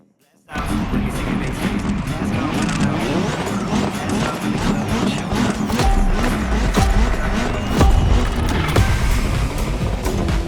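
A race car in The Crew Motorfest accelerates and drives hard, with a continuous loud engine roar, shifting pitch and occasional tire squeal, while a voice talks over it.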